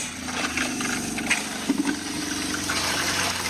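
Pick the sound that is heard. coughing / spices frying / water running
water running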